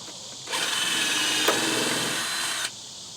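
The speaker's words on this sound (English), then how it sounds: "Let's put the pilot holes all the way through." A power drill bores a pilot hole through green oak wood in one steady, loud whine lasting about two seconds, close by with no talk.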